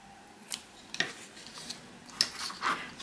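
Scissors snip through a paper grass garland in a handful of short, crisp cuts spaced apart, close by and fairly quiet, with no voices.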